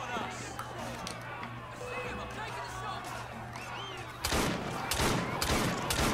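Gunfire crackles as enemies are shot in the video game Assassin's Creed Syndicate, scattered bursts over a busy battle din, growing into loud, sharp volleys near the end, with someone talking over it.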